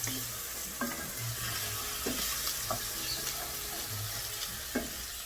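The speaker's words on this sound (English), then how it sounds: "Onions, carrots, and celery. Mix it together." Onions, carrots and celery for Thanksgiving dressing stirred in a pan, with a steady low sizzle and a few scraping strokes of the spoon at irregular intervals, close up and without talk.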